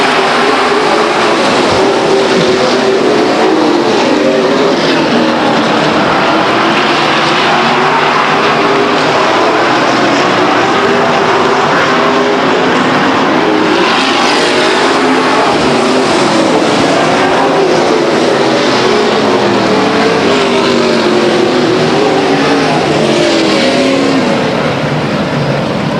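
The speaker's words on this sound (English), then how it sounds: "50 lap main event for the Grand Ams. And here they come to the acceleration line now." Grand Am race cars roar off at the start of a 50-lap main event at Stockton 99 Speedway, a loud, continuous pack of engines droning and swelling as they pass, with no talk over it.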